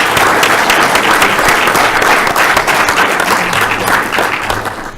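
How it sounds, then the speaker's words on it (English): Loud round of applause from a conference audience at a SIGGRAPH technical session, dense clapping filling the room and tapering off toward the end. "let's give a round of applause to the presenters"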